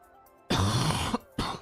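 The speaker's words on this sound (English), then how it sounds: "Damn, man, I'm sorry if I'm coughing." A person coughs and clears their throat in two harsh bursts, one longer and one short, close to the microphone during an NHL 23 gaming session.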